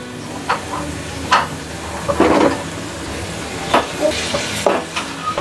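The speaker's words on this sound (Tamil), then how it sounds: "இப்போ நம்ம லெக் பீஸ்லாம் சேர்த்துடலாம்." Chicken leg pieces frying in masala in a pan, with a steady low sizzle broken by several short scraping, clattering stirs of a spoon against the pan.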